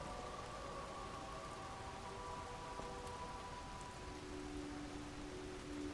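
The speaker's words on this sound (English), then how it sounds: "How is it raining in here?" Steady rain falls within a room in the video game Lies of P, a constant broadband hiss of drops hitting surfaces with faint tonal game music underneath, even and continuous throughout.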